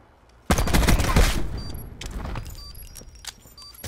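Pistol gunfire in the Black Ops 4 video game during a Search and Destroy match: a loud burst of shots erupts at once, followed by a few sharper reports and a lingering game-audio wash, with no voices.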